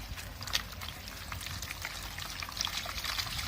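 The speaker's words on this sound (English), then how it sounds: "here pouring 5 liter of water" Five liters of water poured into a pot holding a cocopeat brick, a steady splashing, gurgling pour that runs continuously at moderate level with no talk.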